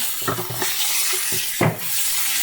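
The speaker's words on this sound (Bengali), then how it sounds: "এবার দেখো সমস্ত মশলা আমি ভালো করে কষিয়ে নিচ্ছি।" Spices being stir-fried with cauliflower, potato, tomato and onion in a hot pan, with steady close sizzling and several scraping stirs of a spoon, one louder scrape near the end.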